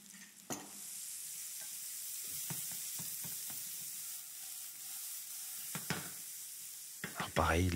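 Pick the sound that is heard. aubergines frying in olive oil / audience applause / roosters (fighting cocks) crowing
aubergines frying in olive oil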